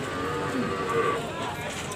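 Cattle moo at a livestock market selling PO-breed cows and calves, a sustained low bellow over steady crowd chatter and nearby voices.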